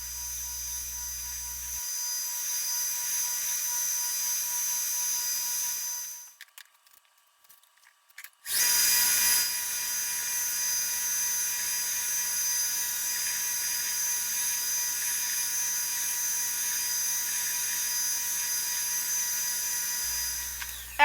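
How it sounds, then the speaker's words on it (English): A belt grinder with a 220 grit belt sands a sword blade, giving a steady, high, whining abrasive hiss that cuts out for a moment partway through and then resumes just as strongly, with no talk. "I'm starting on a 220 grit belt here, and they go all the way to 1000 grit."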